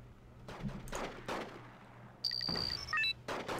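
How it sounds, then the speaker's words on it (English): Bombs dropping in the Wargame: Red Dragon video game, several separate muffled blasts booming at a distance in quick succession, followed by short high electronic interface beeps; quiet overall. "Freedom Fries are dropping bombs like crazy."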